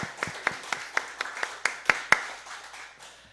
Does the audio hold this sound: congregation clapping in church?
yes